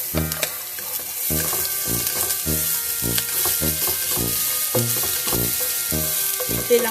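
Onions and garlic sauté in a pan over medium heat with a steady sizzle and bright hiss. Repeated low clanks and scrapes of stirring and a voice speaking underneath come through close and fairly loud.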